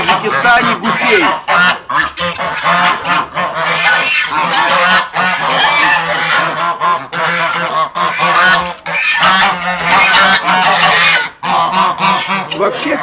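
A flock of domestic geese on a farm in Tajikistan honks loudly and continuously, overlapping calls close by with constant cackling chatter.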